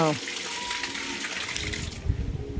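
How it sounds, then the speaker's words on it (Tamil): Water poured onto a floor base at a construction site, a steady splashing gush that builds near the end, with no talking over it. "தண்ணி ஊற்றிட்டு மேலே ஊற்றுறாங்கல்ல இந்த மாதிரி தண்ணி வாட்டர் ஆட் பண்ணிவிட்டு"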